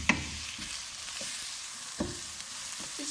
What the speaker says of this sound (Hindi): अभी अदरक लहसुन और सब्ज मिर्च को भी अच्छे से भून लें